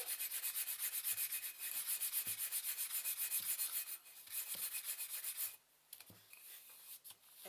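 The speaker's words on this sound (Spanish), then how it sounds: "podemos lijarla un poquito y así suavizará" Rhythmic rasping strokes of sandpaper rubbing a small painted kitchen jar lid, quick back-and-forth passes up close, pausing briefly before resuming more lightly.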